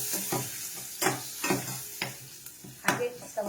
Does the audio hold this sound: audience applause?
no